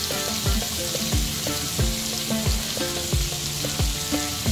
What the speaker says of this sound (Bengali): সবকিছু একসঙ্গে একটু বাটারে ভেজে নেব।